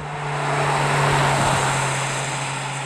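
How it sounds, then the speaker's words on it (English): Car engine running hard and drawing steadily under load through a CVT gearbox, with paddle shifting in use; a constant loud drone with a low steady hum, close and continuous, no speech. "Jim thinks this engine is noisy, and he's right. Have a listen."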